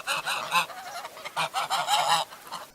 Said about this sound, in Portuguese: Então, o ganso, como ele fala?